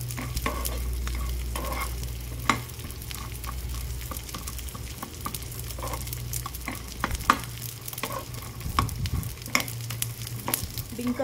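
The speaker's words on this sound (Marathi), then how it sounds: "डिंक आता छान तळलं गेलेलं आहे।" Edible gum (dink) fries in a pan with a continuous crackling sizzle, joined by intermittent scraping and stirring clatter, close and steady with no talking.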